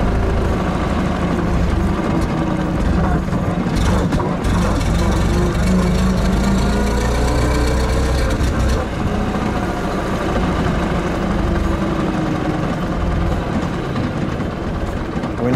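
A 1909 Delage race car engine sputtering and firing, a loud, rough, continuous low mechanical roar with uneven pulsing close by, while voices talk over it.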